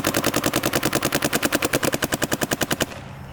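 A Planet Eclipse 180r paintball marker fires a rapid, evenly spaced string of about two dozen loud pops, close up, then stops abruptly and leaves a faint hiss.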